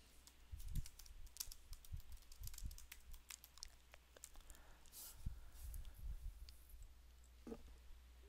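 Soft, quick keystrokes on a computer keyboard patter irregularly while question text is entered, a fairly quiet, close clicking with brief pauses and no voice.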